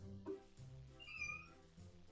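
In a video game, a cat gives a brief, faint meow partway through, set against a low, quiet background hum.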